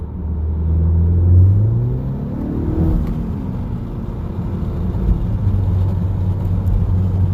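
A 2019 Honda Accord Sport 2.0 with its muffler deleted revs up loud and close, its engine surging into a rising, throaty swell before settling into a steady deep rumble.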